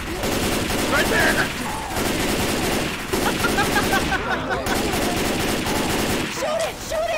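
Rapid gunfire in the video game Left 4 Dead 2 runs almost continuously in loud bursts, mixed with game noise and players' voices talking over it.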